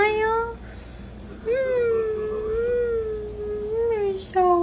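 A house cat meows close by, a short cry followed by a long, drawn-out wavering meow and another brief call at the end, loud and clear against a quiet room.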